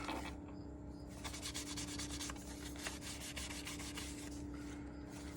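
A dry cloth rubs the edges of tarot cards, giving a soft, close, continuous scratchy rasping that comes in repeated strokes, quiet and without any talk.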